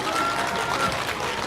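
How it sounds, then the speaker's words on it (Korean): An outdoor audience at a political street talk claps in a brief burst of loud, dense applause from many hands. "시원하게 박수 치셔도 됩니다"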